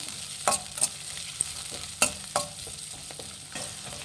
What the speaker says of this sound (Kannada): ಈ ಕ್ಯಾಪ್ಸಿಕಮ್ ಹಾಕ್ಕೊಳ್ಳೋಣ ಒಂದು ಸ್ವಲ್ಪ ಚೆನ್ನಾಗಿ ಫ್ರೈ ಮಾಡಿ